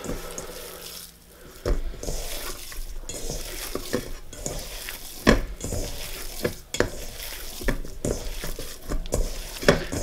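Dry ingredients for ground beef jerky stirred in a bowl, with irregular scraping and clinking strokes recurring throughout at close range over a soft background.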